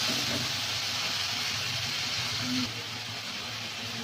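Spice paste of onion, ginger, chilli and turmeric sizzles steadily in oil in a pan in a village kitchen, a continuous close hiss that drops slightly in level partway through.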